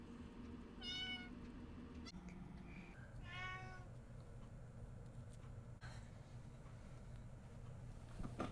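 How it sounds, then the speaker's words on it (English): A house cat meows twice, clear and moderately close, with a pause between the two calls over a steady low background hum. "I had to let another cat out."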